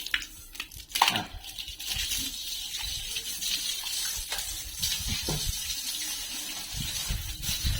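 Water splashes and gushes steadily over a cow being bathed, a close, hissing stream with occasional sharper splashes, no voices.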